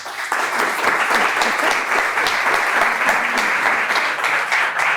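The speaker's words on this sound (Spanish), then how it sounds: "recibamos con un fuerte aplauso a la maestra Mariana Gómez Mariño." Loud, steady applause from an audience welcoming a speaker to a talk, a thick continuous patter of many hands clapping throughout with no break.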